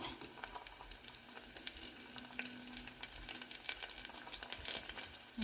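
Ginger garlic paste fries with onions in a pan, giving a faint, steady sizzle with crackling pops and a few stirring scrapes.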